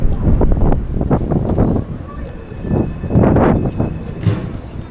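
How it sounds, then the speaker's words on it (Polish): Gusting wind buffets the microphone with a rough, rumbling roar that rises and falls, while someone talks underneath. "Kurde, ale zimny ten wiatr"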